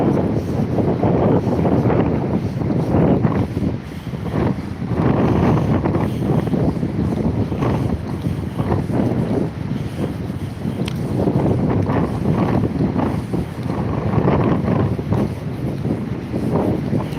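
Strong gusting wind buffets the microphone on a seaside promenade at Withernsea, a loud, continuous roar with surging swells and no talk.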